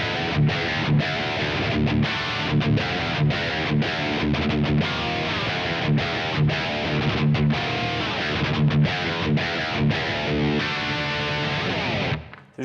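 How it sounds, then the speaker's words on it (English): A Mayones electric guitar plays with a heavily distorted tone, dense chugging chords and riffs with rhythmic stops, loud and close with no talk, cutting off sharply at the end. "Let's hear the distorted tones now."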